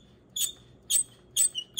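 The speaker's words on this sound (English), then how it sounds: "It still has a nasty squeak to it." Tuning synthesizer mechanism of a National HRO 500 solid-state receiver squeaks in four short, sharp bursts at a steady pace, close up, with only a faint hum between them.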